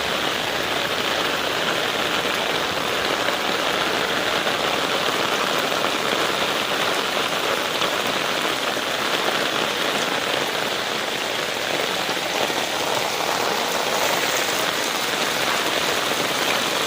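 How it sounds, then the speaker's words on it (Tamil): Heavy rain pours steadily during a red-alert storm, a dense, continuous hiss of drops on surfaces that stays loud and unbroken throughout, with no voices over it. "ஆஹா, மழை ஜாஸ்தி பிடிச்சிச்சு."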